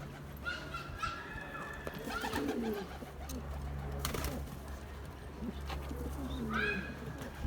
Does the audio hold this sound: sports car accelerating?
no